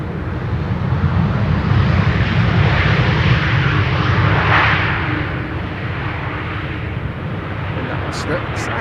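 A loud Tarom Airbus A318 roars continuously overhead on arrival at Schiphol's Buitenveldertbaan runway 27, swelling toward the middle and then easing slightly as it passes.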